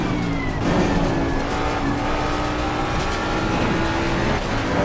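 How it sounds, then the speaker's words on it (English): A Mustang GT3 race car at Bathurst in Assetto Corsa Competizione: a steady, loud engine drone with shifting pitch as another car runs close alongside, with no talking. "Car on the left."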